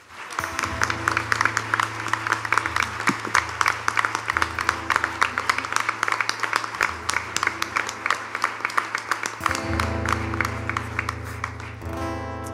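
A church congregation claps during worship, with dense, sustained applause over a low held keyboard tone that lasts about twelve seconds.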